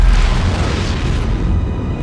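A rocket launcher firing in Dead Space 3 while flying through space: a loud, deep booming rumble that fills the short moment and slowly trails off.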